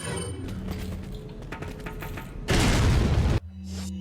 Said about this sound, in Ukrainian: тут давайте гранату будуть кидати